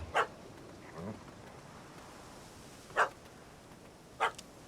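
Dog barking in The Witcher 3, three sharp separate barks spaced over a few seconds, fairly close and clear over a quiet game background with no talk.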